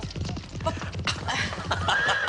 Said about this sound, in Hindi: तुमने घोड़े के टापों की आवाज सुनी?